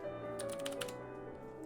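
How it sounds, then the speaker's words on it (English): Someone types on a computer keyboard, a quick burst of several soft clicking keystrokes heard faintly and close over a low steady background hum. "Luna, I'm typing something in, please."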